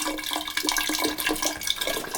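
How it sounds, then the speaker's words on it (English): Water drains from a 40-gallon gas water heater tank through a long garden hose, making a steady, close rushing and gurgling wash that continues without pause and without talk. "Now obviously we need to drain 40 gallons plus whatever other water is in that pipe"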